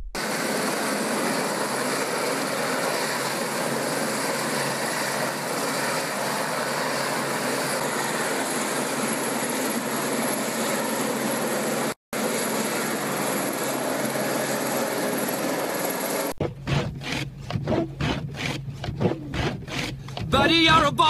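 A helicopter's steady rotor roar fills the scene, broken by a brief dropout, then rhythmic chopping blades pulse more distinctly near the end.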